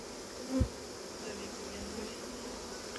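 A honeybee swarm buzzes steadily while being hived at an apiary, a continuous near drone with one brief louder thump early on.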